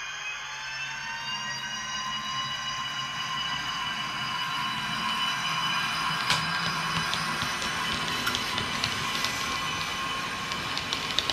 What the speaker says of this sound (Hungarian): A mozdony gyorsítás közben egyébként adja azokat a jellegzetes hangokat